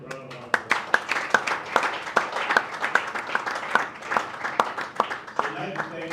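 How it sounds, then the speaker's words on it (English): An audience at a QHSE debate event applauds university and safety representatives, including members of the Nigerian Institution of Safety Engineers. The clapping is thin and scattered, with individual claps audible in an uneven rhythm and faint murmuring underneath. "Please give them a round of applause."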